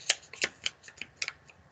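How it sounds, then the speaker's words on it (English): A sheet of paper is handled and folded in half for a reindeer craft, giving a quick series of about eight crisp rustles and creases, close and fairly clear, with no talk. "Take a piece of paper, fold it in half,"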